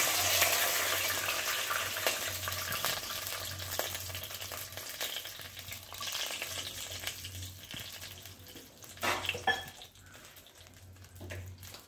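Cumin and barnyard millet sizzling in a pan, a continuous bright frying hiss with a few stirring clicks and clatters toward the end, no talking.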